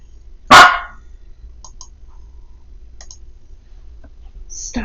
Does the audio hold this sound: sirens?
no